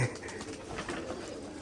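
Pigeons at a loft of old Bangladeshi giribaz flying pigeons coo continuously in a soft, low, overlapping murmur, close by and fairly even in level.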